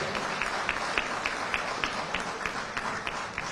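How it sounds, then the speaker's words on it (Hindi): Audience applause from a crowd at a diaspora gathering in Dubai: a dense, continuous wash of clapping that holds at an even level throughout, with no clear voices on top. "जोरदार ताली बजाओ"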